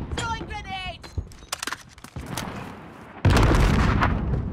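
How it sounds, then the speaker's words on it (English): A grenade explodes in Call of Duty Warzone with a sudden loud, sustained boom near the end, preceded by scattered gunfire, clatter and shouting players. "Throwing grenade!"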